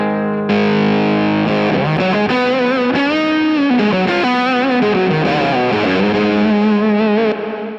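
Sustained electric guitar through a Boss MS-3 with heavy fuzz distortion, echoing delay, reverb and compressor, playing a bending, wavering melody loud and up front with no talking.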